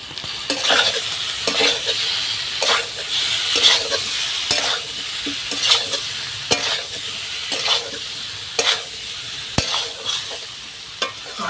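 Boiled taro pieces with salt, turmeric and split green chillies are stirred and sautéed in a pan for a shol fish curry. A loud, continuous sizzle runs under rhythmic scraping strokes of the spatula.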